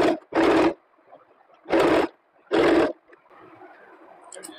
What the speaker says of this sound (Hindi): उसके बाद अब हम इसको एक फोल्ड ऐसे करके इसके ऊपर सिलाई करते हैं।